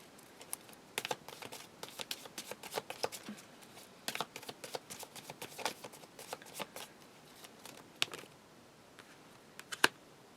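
Tarot cards being shuffled and handled, giving crisp papery flicks and slaps in irregular rapid bursts, close and fairly quiet, with a couple of sharper taps near the end.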